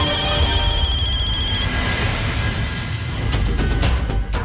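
A telephone rings on an outgoing call, a loud tonal ring that stops partway through and gives way to brief noisy bursts.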